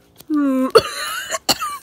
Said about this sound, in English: he has a little cough